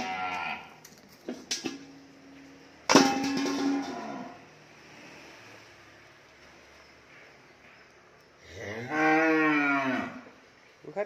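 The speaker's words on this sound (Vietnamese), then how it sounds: "Cái đây là bò lỡ, cái đây cũng bò lỡ luôn." Young cattle at a farm in Mỏ Cày Bắc give a few scattered moos, including one long loud bellow near the middle and another toward the end, with quiet farmyard ambience between.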